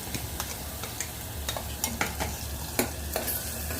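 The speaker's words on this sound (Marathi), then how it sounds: "हे वाटण मी आता तेलामध्ये छान असं फ्राय करून घेईल" Ground Khandeshi masala paste fries in oil while being stirred, a continuous close sizzle broken by repeated scraping and clinking strokes of a spoon against the pan, without speech.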